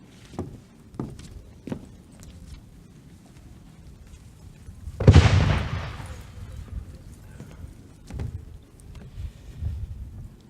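Gunfire rings out during an Armistice Day ceremony, one loud sharp report midway through with a rolling tail, set among quieter scattered knocks and shuffling outdoor sounds.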